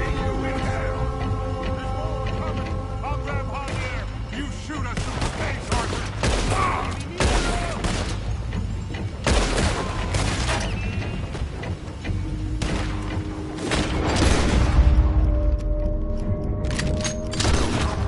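A sustained firefight in Red Dead Redemption 2, with dense overlapping gunshots, mechanical clatter and booms rolling on for many seconds, loud and cluttered, and voices faintly mixed in.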